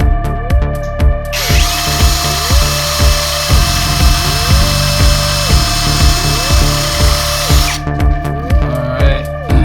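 A power drill runs loud and close while solid wood security doors are installed in an apartment, its motor whining steadily for several seconds between bursts of rhythmic clicking and ratcheting.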